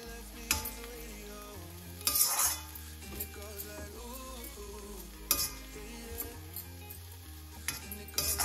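Peas for matar nimona roasting and being stirred in a pan, a soft continuous sizzle broken by several sharp scrapes and clinks of a spoon against the metal, close and fairly quiet, with no talking.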